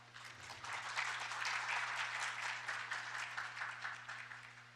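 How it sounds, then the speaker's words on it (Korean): Soft, distant applause from a patent court conference audience greets the session panelists, a steady patter of many hands over a low electrical hum. "큰 박수를 부탁드립니다"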